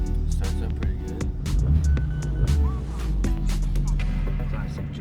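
A Rover Mini's small engine idles and runs steadily just after start-up, a close, continuous rumble with a few brief tonal squeaks and clicks over it.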